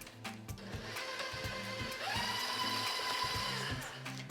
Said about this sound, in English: We're gonna mix in the eggs and then add some milk.